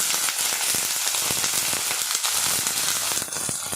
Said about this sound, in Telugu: ఉల్లిపాయ వేగిపోతుంది అండి.